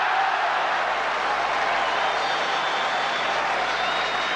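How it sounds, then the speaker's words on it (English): Stadium crowd at a decathlon high jump cheering steadily for an athlete clearing the bar, a dense, continuous roar of applause held at constant loudness throughout. "this man will get another tremendous cheer if he goes clear"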